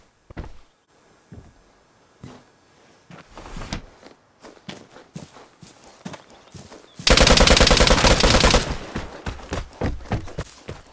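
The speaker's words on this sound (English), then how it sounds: "it's one thing to get shot at, but it's another thing to get shot at and don't know where the guy is at" Gunfire in the video game Vigor while under attack: scattered footsteps and single thuds, then a loud sustained burst of rapid automatic fire followed by a few trailing shots, close and dominant.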